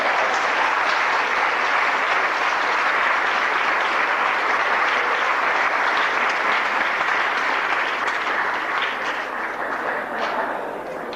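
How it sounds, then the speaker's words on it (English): A large audience at a speech event at Howard University gives sustained, dense applause, loud and even throughout, tapering slightly toward the end. "Can you give a round of applause to Mr. Rob Hall and Maria Austin?"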